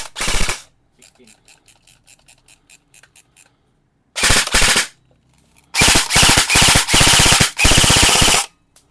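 An E&C Colt AEG airsoft rifle, shooting around 400 to 410 FPS out of the box, fires loud close bursts on full auto. A rapid string of single shots comes first, then longer buzzing volleys, with no talking.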